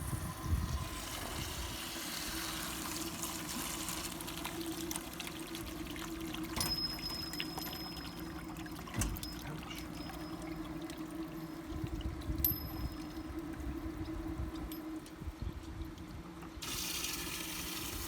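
Vinegar and water gush out of a tankless water heater being flushed, likely into a 5-gallon bucket, making a steady, continuous pouring and splashing flow with no talk.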